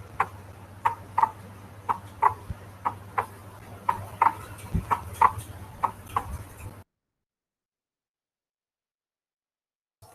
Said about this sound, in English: This is the sound of a heartbeat.